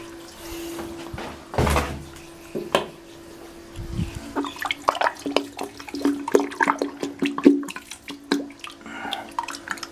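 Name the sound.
Balterley Beo Regent toilet flushing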